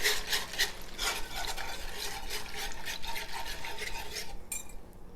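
A whisk rapidly scrapes and clinks against a skillet, stirring liquid for chicken pot pie in fast rhythmic strokes that stop abruptly near the end.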